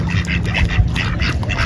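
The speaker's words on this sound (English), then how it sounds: "this duck is actually kind of cute" Several ducks quack repeatedly in an outdoor nature spot where birds are being fed, a steady nearby chorus of short nasal calls over light background noise.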